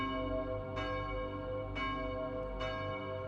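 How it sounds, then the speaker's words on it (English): A church bell tolls three times at even intervals, each strike ringing out and sustaining over a low background hum, with no voices. "Yeah, the bell is still going on."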